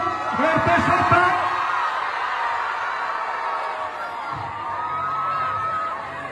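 A crowd at a hypermarket show in Auchan Noyelles-Godault cheers and whoops in a broad, continuous wash of noise, with a loud announcer's voice over a microphone riding on top.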